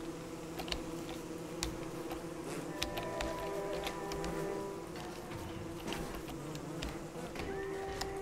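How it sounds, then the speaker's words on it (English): Killer bees buzzing in the video game Don't Starve, a continuous insect drone with scattered clicks and ticks over it, steady and moderately loud. "Let's get these killer bees after us."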